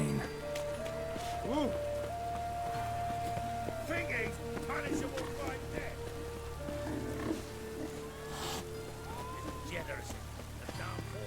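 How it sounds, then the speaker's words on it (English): Steady rain patters across a landscape in The Witcher 3: Wild Hunt, a constant soft hiss running beneath a voice and game music tones. "Looks like rain."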